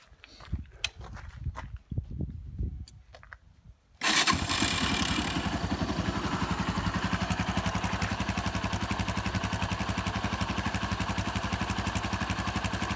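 A Viper V250VXR motorcycle with a 169FMM engine, first a few scattered clunks and knocks, then it fires up abruptly and settles into a steady, loud, close, rapidly pulsing idle that runs to the end.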